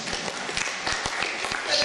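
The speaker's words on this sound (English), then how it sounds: "That clapping was very poor." A church audience at a Bible teaching applauds in a brief, dense patter of clapping hands, steady and fairly loud, with a voice faintly underneath.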